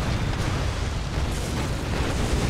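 A loud, rumbling car explosion in the video game Earth Defense Force: Iron Rain, a heavy low boom with a crackling blast that carries through the whole moment.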